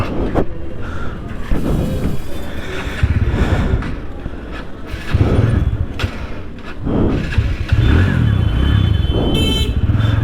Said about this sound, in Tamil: இந்த டிராஃபிக் வழியாக போய் தான் போனோம்